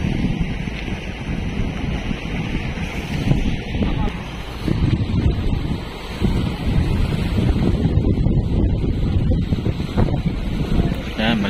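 Strong cold wind ahead of an approaching typhoon in Dilasag, Aurora, Philippines buffets the microphone in a constant low roar, gusting unevenly, with a voice faintly audible beneath it.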